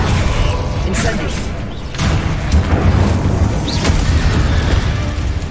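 A burst of fiery spell effects in the Hogwarts Legacy video game, booming whooshes and thuds in a busy combat scene, loud and close, with a voice shouting a spell name amid the clamour.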